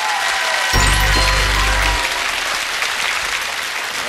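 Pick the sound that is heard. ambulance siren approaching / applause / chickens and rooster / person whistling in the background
applause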